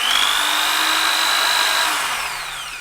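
A power drill bores pilot holes in a shed workshop with a loud, steady high-pitched whine that holds for about two seconds, then slows and fades as the bit winds down.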